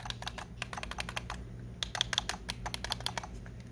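Sharp clicks from the shoulder buttons of a Hori Switch Pro controller modified with tact switches, pressed in rapid irregular bursts, close and fairly quiet over a low steady hum.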